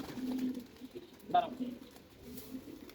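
Soft, low pigeon coos come from birds kept at a home loft, with one clearer coo in the middle. Someone talks quietly nearby.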